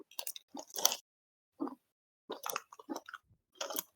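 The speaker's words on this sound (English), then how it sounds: "Sounds like chewing" Close, wet chewing and squishing in irregular bursts separated by silences, moderately quiet with crisp mouth clicks and no talk.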